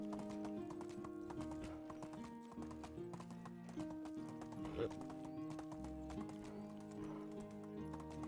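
Horse hooves clip-clop steadily alongside a neigh in the Medieval Dynasty game, layered over a busy bed of musical score with some voice present.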